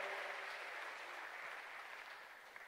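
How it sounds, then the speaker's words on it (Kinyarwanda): A church congregation at a Sunday service claps in sustained, dense applause that holds steady, then fades slightly toward the end, heard from a little distance. "Acclamons fort pour le Seigneur"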